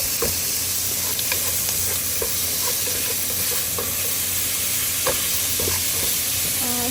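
Packet vegetables for a Chinese-style dish are stirred in a sizzling pan after salt goes in, with repeated scraping clicks of the utensil over a loud, steady hiss.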